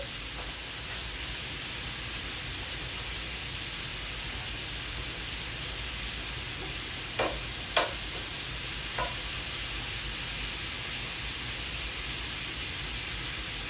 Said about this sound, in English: we're just gonna fry this up once